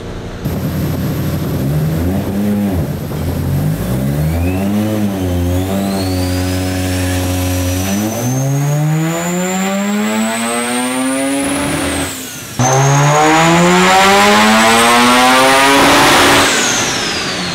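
A loud, built Mazda RX-7 engine revs steadily higher through the range on a dyno, briefly drops, then screams up again to a high-pitched peak near 8,600 RPM.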